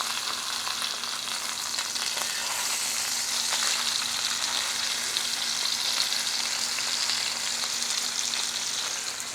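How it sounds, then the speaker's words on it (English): Ribeye steaks sear in a hot pan with a loud, continuous hiss of sizzling fat that holds steady throughout and is heard alone, with no talk. "I'll flip it over and let it sear on the other side."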